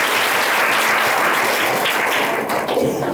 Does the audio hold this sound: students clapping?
yes